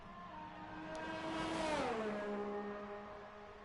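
A Ferrari race car engine in a racing video game at Singapore's Marina Bay circuit drones steadily and faintly, its pitch sliding down midway as if shifting or braking, then holding a lower tone with no talk.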